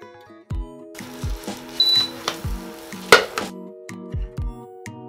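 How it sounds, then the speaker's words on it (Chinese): Eggs and oysters fry in oil in a pan, with a loud hissing sizzle that surges and fades over a few seconds, broken by sharp knocks of utensils against the pan. "起锅，下油，放蛋。"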